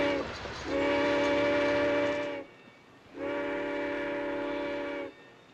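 Train whistle from the 1939 Marx Brothers film At the Circus, sounding two long sustained steady blasts separated by a brief pause, loud and alone.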